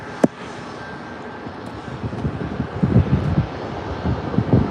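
A fixed-wing airplane near San Diego Airport, taking off or landing at sunrise, rumbles as a steady, fairly distant drone that swells slightly toward the end, with light wind noise across the microphone.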